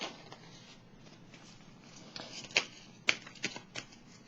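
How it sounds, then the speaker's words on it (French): Tarot cards being drawn and handled at a reading, soft papery shuffles and slides building into several sharp card snaps and flicks toward the end, close and fairly quiet. "Je vais piger une carte ici pour déposer."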